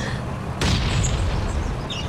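A grenade launcher round bursts against a tank in the survival game Last Island of Survival: one sudden heavy boom that spreads into a sustained low rumble over steady background noise.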